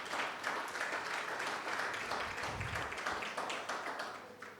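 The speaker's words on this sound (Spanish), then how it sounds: "Vamos a darle un aplauso también." Church congregation applauds a newcomer, a continuous patter of many hands clapping at moderate level, with a few sharper individual claps standing out near the end.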